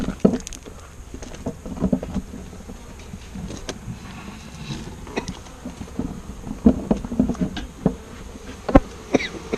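Bees buzz steadily around a small beehive during an outdoor inspection. The drone is close and continuous, with scattered clicks and rustles of handling and no talk.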